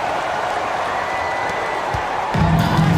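A basketball arena crowd at a WNBA game between the Atlanta Dream and Chicago Sky cheers and applauds in a steady, broad roar, with a deeper surge of noise near the end.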